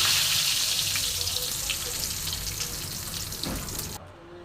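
Bay leaves dropped into hot oil left over from frying vegetables, a loud close sizzle that slowly eases, with a few light clinks before cutting off abruptly near the end.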